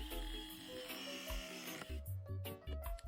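A RIDGID 240 press tool cycles on a pipe fitting during a waterline reroute, a close motorized whine rising in pitch before a sudden change and a rhythmic pulsing drive at the end of the press.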